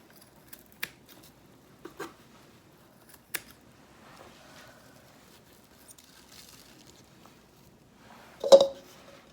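Scissors snipping homegrown wheatgrass in a basket, a few sparse, sharp clicks spread out over quiet pauses, followed by one louder crunchy cut near the end.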